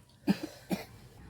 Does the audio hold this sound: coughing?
yes